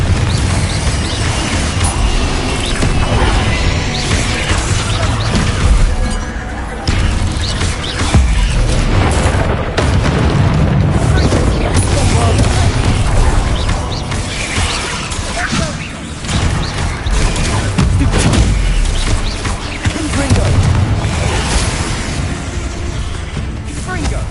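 Explosive spell blasts from a Harry Potter video game: dense, constant booming bursts and crashes pile on one another through the whole stretch, loud and chaotic, with no quiet gaps.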